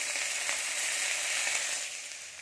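Ingredients for an aloo phulkopi, soybean and olkopi curry hiss in hot oil, a steady, close, bright sizzle that fades slightly toward the end, with no talking.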